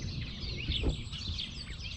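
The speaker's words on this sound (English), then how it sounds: "there's a lot of birds tweeting around." Birds tweeting outdoors in quiet countryside at Bransby Horses in West Lindsey, a steady wash of high chirps over faint low rumble, with one slightly louder moment near the middle.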